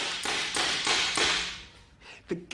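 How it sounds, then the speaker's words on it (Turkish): Paintball gun powered by compressed air firing several quick bursts, each a sharp airy pop with a hissing tail, close and loud, followed by a few fainter clicks. "Tetiği çektiğim zaman gaz ileri fırlıyor ve boya mermiyi ileri itiyor."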